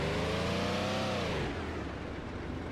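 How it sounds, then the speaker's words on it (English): A truck engine in the video game DayZ revs up to a high whine, then the pitch drops away as it eases off, loud and close with no voices. "Carbon got back and we got the truck out of there."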